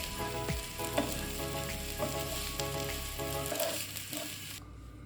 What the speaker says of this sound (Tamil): இப்போது இதை கொஞ்சம் நேரம் ஃப்ரை பண்ணிக்கலாம்.